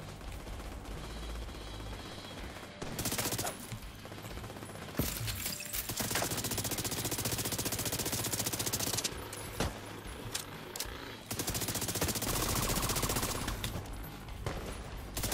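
Gunfire from The Division 2 in a flooded Jefferson Trade Center: long bursts of automatic fire and single loud shots, dense and close, with brief pauses between volleys.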